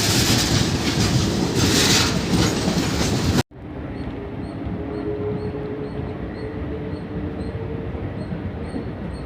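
EMU local train running on rails between Chennai Beach and Avadi, a loud steady rolling rumble with a sharp cut partway through, then continued wheel noise and faint rhythmic clicks from the track.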